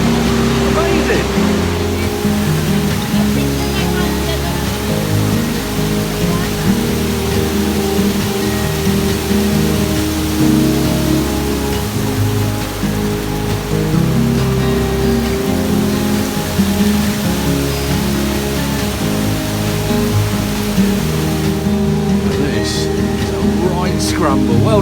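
A multi-tiered waterfall cascades in the Brecon Beacons, a loud, steady roar of rushing water that fills the whole scene without a break, with scattered voices faintly under it.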